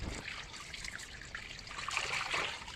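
Quartz stone being rinsed under a thin trickle of water, a steady faint splashing and dribbling that runs throughout.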